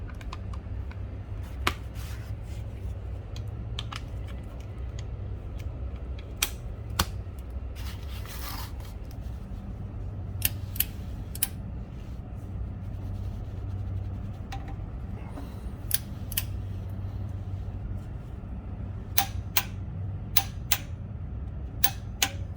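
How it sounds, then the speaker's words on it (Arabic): Torque wrench clicking at its set torque while tightening a fitting during an engine oil change on a Subaru BRZ, a scattering of sharp, close clicks over a faint low hum. "هذه صوت الطقة يعني وصلنا حق التورك اللي نبيه"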